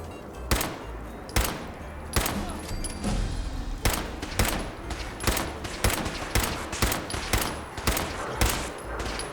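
Laser rifle fire in the Fallout 4 video game: sharp, loud shots repeating in quick, uneven bursts throughout, with background game ambience between them.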